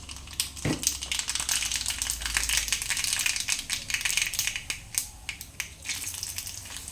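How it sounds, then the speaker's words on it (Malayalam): Mustard seeds and two or three dried chillies frying in hot oil for tempering: a steady crackling sizzle with sharp popping spatters throughout, loud and close, with no talk. "ഇനി നമുക്ക് കടുക് ഇട്ട് കൊടുക്കാം. 2-3 വറ്റൽമുളകും കൂടെ ഇട്ട് കൊടുക്കാം."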